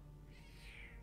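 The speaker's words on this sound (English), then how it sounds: "What are you doing, kitty cat?" A house cat meows once in a drawn-out, rising-then-falling call, faint and close, over a low steady background hum.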